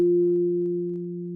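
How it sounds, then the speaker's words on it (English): A steady, pure low sub-harmonic bass tone from the Waves LoAIR plugin holds alone for over a second, fading slightly toward the end. "So we can hear just the sub-harmonic."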